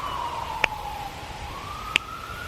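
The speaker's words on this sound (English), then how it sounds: "Sirens!" A passing emergency vehicle's siren wavers faintly in the distance, sliding slowly up and down, with two sharp clicks cutting through.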